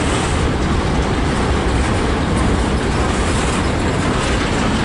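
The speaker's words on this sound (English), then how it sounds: "this is a long train" A long CSX freight train passes close by in Fostoria, Ohio, a loud continuous rumble of railcars with wheel clatter, steady throughout and with no talking.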